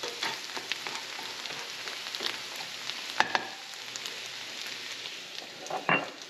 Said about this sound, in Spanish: Es un delicioso sofrito